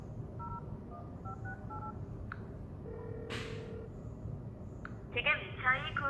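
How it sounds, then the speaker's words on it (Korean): A smartphone dials out with a rapid series of short DTMF key tones, then connection beeps and a brief ring signal as the call goes to a switched-off handset, with faint speech in the background. "전원을 끈 전화기에 전화를 한번 해볼게요"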